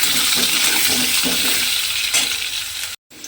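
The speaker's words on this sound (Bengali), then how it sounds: "এবারে আমাকে আলুগুলোকে লাল করে ভেজে নিতে হবে" Potato pieces fry in hot oil with salt and turmeric, giving a loud, close, continuous sizzle that breaks off for a moment near the end.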